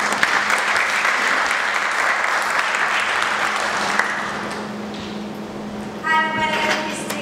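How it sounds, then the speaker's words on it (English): Audience applause at an Albanian Independence Day event, steady clapping for about four seconds that fades, followed by a brief voice. "Let's give her a round of applause."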